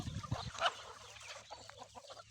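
Native country chickens on a farm in Keernahalli village, Mandya district, giving a few close, short clucks over quiet outdoor background.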